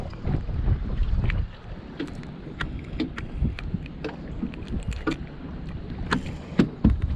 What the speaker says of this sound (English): If you can't tell, it's very windy.